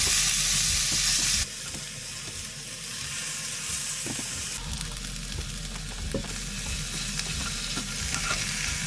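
Marinated steak sizzles in olive oil and garlic in a skillet, a steady close-up frying hiss with occasional faint clinks and scrapes, and no talk.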